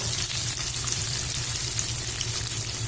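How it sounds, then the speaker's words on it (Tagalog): Anchovies (dilis) fry in a pan with a loud, dense, continuous crackling sizzle, close up and steady, with no voices. "ito na yung ating piniprito o sinasangag na dilis"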